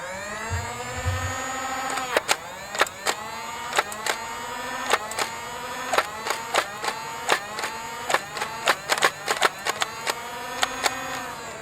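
A motorized Nerf Demolisher blaster spins up with a rising whine, then fires green foam darts as a series of sharp pops about every half second over the sustained motor hum.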